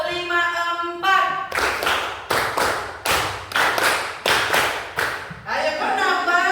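A group claps a rhythmic pattern in unison during a classroom coaching session, with short bursts of fast claps grouped in counted sets between brief pauses, loud and close, with voices speaking at the start and end.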